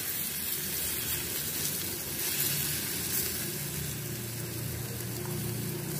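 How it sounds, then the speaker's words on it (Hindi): Besan and wheat flour batter spooned into a hot pan for a healthy kids' snack, sizzling loudly and steadily throughout with a dense, constant crackle and no talk. "उसके बाद आप एक चम्मच से मटेरियल को पैन में ऐड करें"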